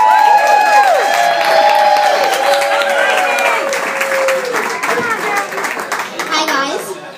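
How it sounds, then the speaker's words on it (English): Audience clapping and cheering at a singer's night performance, loud and close, with a sustained melodic tone from an instrument or voice ringing over the applause before it fades. "Big round of applause."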